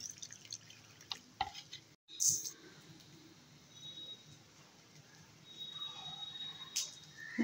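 Ground black mustard paste being mixed with water and strained, giving soft wet drips and liquid trickles at close range, with a few sharper clinks scattered through a quiet kitchen background.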